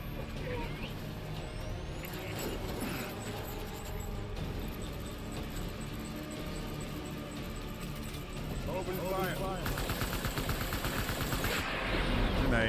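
Gunfire during the Cliff Unger boss fight in Death Stranding, dense rattling shots and bursts amid heavy mechanical battle noise that grows louder toward the end.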